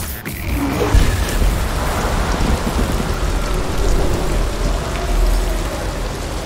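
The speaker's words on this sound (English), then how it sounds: "Now I can hear the rain." Steady heavy rain in the video game Detroit: Become Human patters densely, with a low rumble of thunder rolling underneath, continuous and close.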